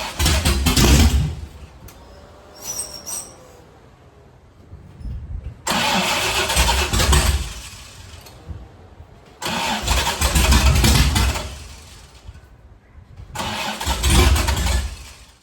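A Ford Galaxie engine cranks in several loud bursts of several seconds each, separated by short pauses, catching briefly near the end of some attempts; no talking.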